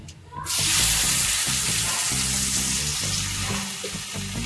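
Kashmiri chili powder, turmeric and tomato paste hit hot oil in a pan for a paneer masala, a loud, abrupt sizzle that bursts in after a brief lull and stays fierce and steady, with faint stirring and a low tune underneath.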